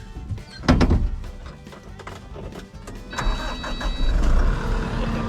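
A vehicle engine turns over during dam renovation work on a ranch; a couple of hard thunks come first, then the motor catches and settles into a steady, mid-pitched rumble close by.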